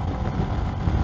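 Royal Enfield Himalayan motorcycle engine running hard at highway speed, a dense, steady buzzing roar with wind noise, loud and continuous throughout the brief moment.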